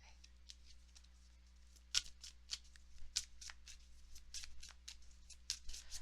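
Oracle cards are shuffled by hand for a love reading, a quiet run of crisp riffling snaps and flicks in an irregular rhythm, close and alone with no talk.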